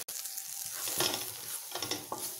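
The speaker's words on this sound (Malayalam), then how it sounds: "അതിൻ്റെ പച്ചമണം പോകുന്ന വരെ നമുക്ക് ഇതൊന്ന് വഴറ്റി കൊടുക്കാം" Coriander and turmeric powder being sauteed in a pan for a payar curry: a steady close sizzle broken by scraping strokes and small clicks of a spoon against the pan.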